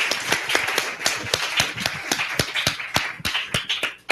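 An audience at a literary session in a Mexico City venue applauds a guest writer, with dense, lively clapping and sharp individual claps standing out, sustained for about four seconds.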